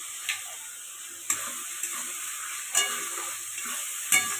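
A spoon stirs mutton masala with tomatoes and ground coriander in a frying pan, soft scraping strokes and a few sharp clacks against the pan over a constant sizzle, with no talking.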